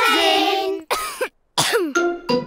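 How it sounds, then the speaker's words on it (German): A cartoon character in the German Peppa Pig series coughs in several harsh, throaty bursts separated by short pauses, close and clear with no talk over them. "Petros Husten ist ansteckend"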